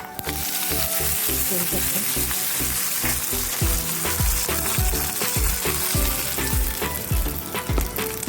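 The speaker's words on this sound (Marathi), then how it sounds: "दोन सुक्या मिरच्या घालते तुकडे करून आपण या चटणीवर मस्त असं तडका मारून घेऊया" Dried red chillies sizzle loudly in hot oil as a tadka tempering for chutney, a dense continuous crackle and spit up close, with scattered sharp pops throughout and a faint voice underneath.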